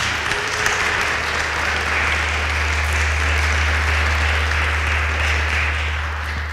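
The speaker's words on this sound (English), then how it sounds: "this applause is to say good morning and welcome to everybody" Steady applause of welcome from a church congregation at a Sunday morning service, many hands clapping in an even, continuous wash over a low hum, with no speech.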